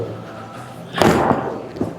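A Kaboom bowling ball strikes the pins with a loud thump and a clattering burst, followed by a brief fading rattle and one smaller knock, heard at a moderate distance over faint lane background noise.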